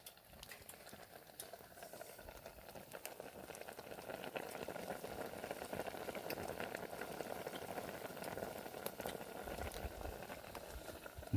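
A pot of water comes to a boil, a faint hiss of tiny bubbles that gradually thickens into a steady, soft bubbling patter, close and with no talk over it.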